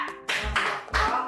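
Hands clap in a steady rhythmic pattern, several firm claps in quick succession, close and loud, with no talking.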